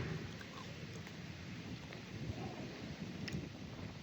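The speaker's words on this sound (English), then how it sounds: "It's getting windy." Wind blows steadily outdoors, a faint low rushing and buffeting that continues for a few seconds.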